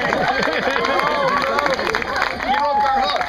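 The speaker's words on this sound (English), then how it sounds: "Applause to the Sea Hag." Audience applause and cheering at a pirate show at a Renaissance fair, a dense continuous crowd noise of clapping mixed with shouts and chatter, loud and steady throughout.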